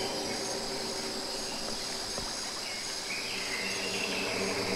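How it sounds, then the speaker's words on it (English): Ambient crickets in a garden scene of the Danganronpa video game, a continuous high chirring drone held steadily under a faint low hum. "I hear crickets too."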